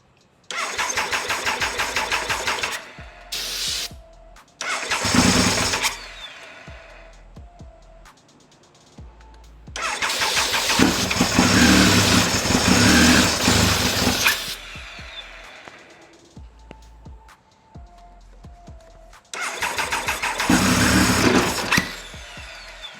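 A Triumph Speed Triple 955i motorcycle engine, running for the first time in over ten years, cranks and catches on several attempts, firing into rough bursts of loud, close running separated by pauses, with no talk.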